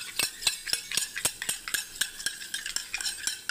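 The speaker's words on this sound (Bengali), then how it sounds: "দেখুন বন্ধুরা, দইটাকে আমি ফেটিয়ে নিচ্ছি।" Yogurt is whisked in a bowl with quick, steady tapping strokes, about four per second, clicking and scraping close up and alone.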